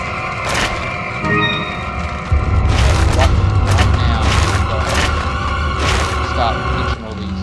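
Weapon gunfire in the video game Resident Evil 4, a series of sharp booming shots spaced about a second apart over a low background hum, with a voice talking in between.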